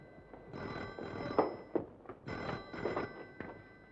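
A telephone rings in an old Hindi film scene, sounding as two clear, fairly soft bursts of electronic bell trill separated by a brief pause.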